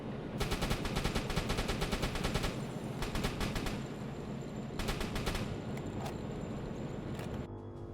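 Submarine deck gun firing in the naval video game UBOAT, long rapid automatic bursts with short pauses between them, loud and close over a constant low rumble.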